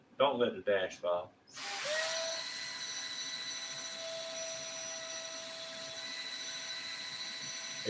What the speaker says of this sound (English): If you take and twist this wire right here with a drill,